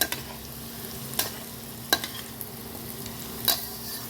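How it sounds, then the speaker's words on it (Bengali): Potatoes, carrots and cauliflower stir-frying in a pan, a soft continuous sizzle broken by several sharp scraping strokes of the spatula, with no talk. "আলু, গাজর, ফুলকপি ভাজা হয়ে গেছে।"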